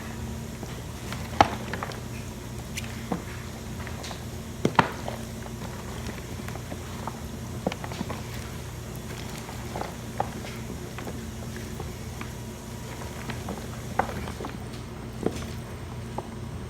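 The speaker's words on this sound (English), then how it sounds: "Give it a big toss." A homemade salad being tossed with freshly poured dressing during meal prep gives soft, scattered clinks and rustles from the utensils and leaves, some taps sharper than others, over a low steady room hum.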